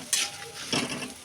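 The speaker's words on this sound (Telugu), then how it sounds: "మనకి పోపుతో పాటు అల్లం కూడా వేగుతూ ఉంటుందండి" Mustard seeds, cumin and ginger fry in hot oil for a tempering, giving a soft hiss and crackle with a couple of brighter bursts, close up and without talk.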